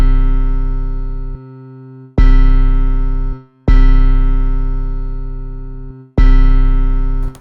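Deep 808 bass sample transposed down and tuned on an MPC One, playing four long sustained tonal hits with sharp attacks and slow decays, loud and alone with no voices.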